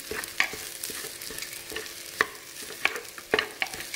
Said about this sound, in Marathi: गॅस मोठाच आहे आणि हे गहू छान भाजून घेऊया 1-2 मिनिट।